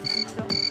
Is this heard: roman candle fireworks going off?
no